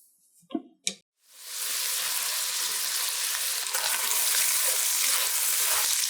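Chopped vegetables for chili hitting a hot pan after a couple of sharp clatters, then a loud, even sizzle that holds strong and close for several seconds with no talking.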